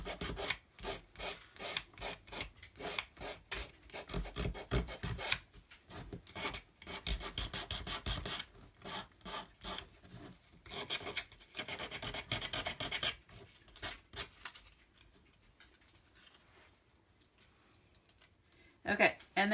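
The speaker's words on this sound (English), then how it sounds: "Doesn't take much to sand it down." Sandpaper rubs back and forth along the edges of a small wooden cube ornament in quick rasping strokes, close and fairly quiet, with a pause near the end and a few final scrapes.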